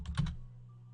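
A few quick keystrokes clatter on a computer keyboard, close and crisp, then stop, leaving a faint hum.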